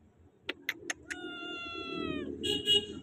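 A white cat meows indoors: a few quick clicks, then one drawn-out, fairly faint meow and a shorter cry after it, with low background hum and no talk.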